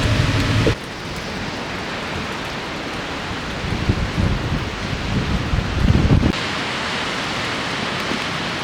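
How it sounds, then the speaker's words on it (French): A dense roar of heavy rain and gusting wind from a coastal storm in California fills the scene, swelling louder in the middle before easing to a steadier downpour. "C'est la tempête là."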